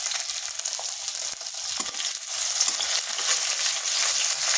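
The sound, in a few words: grated ginger and green chilies frying in a pan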